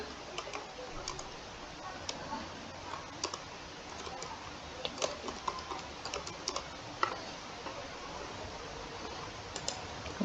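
Steady, rapid typing on a computer keyboard runs throughout, with light clicky keystrokes over a faint hiss and no one speaking.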